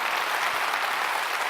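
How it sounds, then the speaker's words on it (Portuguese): A church congregation claps hard together, a dense, steady wash of applause that stays loud and even from start to finish with no voices rising above it. "Se você crê, aplauda bem forte ao Senhor."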